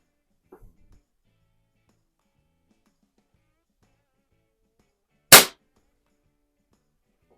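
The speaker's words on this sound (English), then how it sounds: "Now should be like a much lower power shot." A single sharp, loud crack of a low-power shot from a 1954 Crosman 150 .22 CO2 pistol in a garage, preceded by a few faint mechanical clicks and otherwise quiet.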